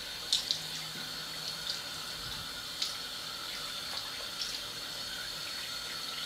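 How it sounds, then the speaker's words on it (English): Tap water runs steadily into a sink while a face is wetted before a shave with a vintage Bank safety razor, a soft continuous hiss with a few faint splashes and clicks, close by and alone. "Let me wet my face."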